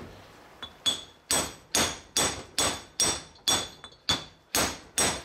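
Hammer driving old lug studs out of the front hub of a 1980 Ford F350 service truck, about ten sharp, ringing metal blows at a steady pace, close and loud with no talk.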